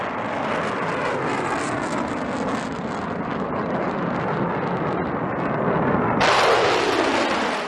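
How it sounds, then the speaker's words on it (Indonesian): Roaring rush of missile and drone launches released by Iran's Revolutionary Guard, a loud sustained blast-like roar that swells and turns harsher and brighter near the end, with no voices. "Korps Garda Revolusi Iran juga merilis video yang memperlihatkan peluncuran rudal dan pesawat nirawak drone."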